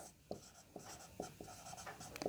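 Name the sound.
writing on a board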